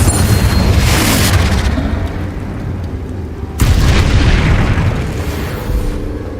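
A Confringo blasting spell detonating in Hogwarts Legacy, with a loud booming explosion that rumbles and decays, then a second heavy blast hits around the midpoint and rolls on densely to the end, no voices.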